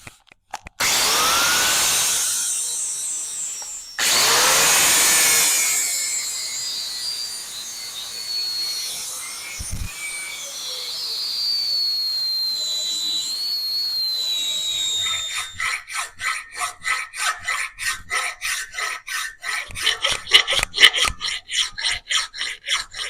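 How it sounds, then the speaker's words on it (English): A grinder rasps against the ends of stacked brass vise jaw pads in long, loud passes, then shifts to a rapid rhythmic scraping with a whining tone, alone and close. "I'm just gonna stack them and grind the ends so they're all 4 pieces the same."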